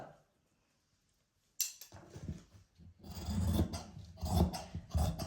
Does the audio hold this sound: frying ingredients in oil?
no